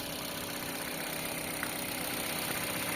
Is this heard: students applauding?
no